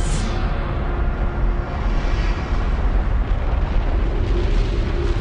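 A volcanic eruption blasts lava high into the air, a loud, continuous roaring rumble that stays heavy and unbroken throughout.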